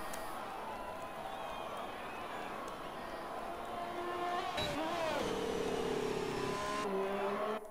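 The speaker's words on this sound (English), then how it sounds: "Ferrari coming out of the pit lane" A Ferrari Formula 1 car pulls out of the pit lane in a racing video game set in Spain, its engine a steady high whine that climbs sharply in pitch as it accelerates, heard under continuous commentary talk.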